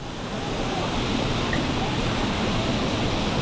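A waterfall rushing at Fayoum, Egypt, heard close up as a dense, steady, broadband roar of falling water that holds at an even loudness throughout with no pauses.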